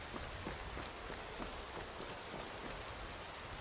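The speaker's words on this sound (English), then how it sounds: "the light rain is not a problem" Light rain in the video game Skyrim SE, a soft continuous patter of drops heard faintly and evenly throughout with no voices.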